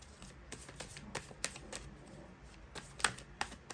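Tarot cards are shuffled and drawn by hand, a quick series of crisp riffling snaps and soft slaps at an uneven rhythm, close and fairly quiet, with no talking.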